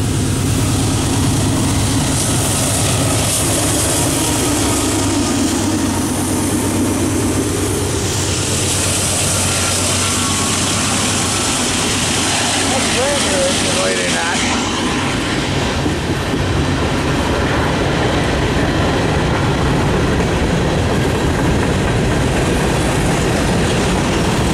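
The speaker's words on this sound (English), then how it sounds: "freight train. That's a newer engine leading too." A freight train led by a newer engine, number 4275, rumbles past close by, a loud steady roar of engine and rolling wagons with faint clatter, continuing throughout with no talking.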